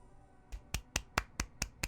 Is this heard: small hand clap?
yes